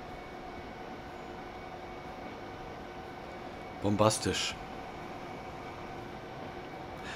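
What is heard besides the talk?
Railjet train running, from video game Transport Fever 2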